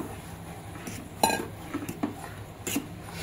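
A spoon scrapes and clinks against a pan while stirring fish curry masala in oil, made with fresh pomfret, giving a few sharp metallic knocks over a quiet sizzling background, with no talking.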